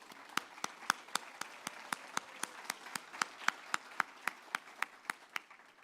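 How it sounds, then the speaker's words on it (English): Slow, evenly spaced single claps ring out crisply at a white coat ceremony, around twenty sharp hand strikes in a steady rhythm against a quiet room, fairly faint and without other voices. "So I do want to personally clap for all of you guys."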